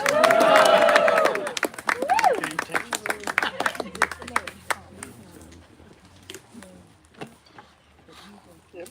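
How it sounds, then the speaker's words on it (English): Wedding guests cheer and whoop loudly at first, then break into scattered, uneven clapping that thins out into a few sharp claps, with voices calling out over the start. "You can all clap and cheer."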